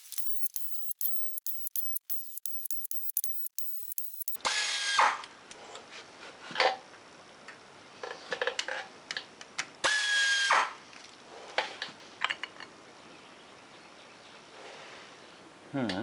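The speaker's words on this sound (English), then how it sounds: "now I'm going to go ahead and pull the pressure plate off." Hand tool work on the 10 mm clutch pressure plate bolts of a Suzuki GS850 motorcycle: rapid ratcheting clicks at first, then scraping and metallic turning bursts, close and moderately loud.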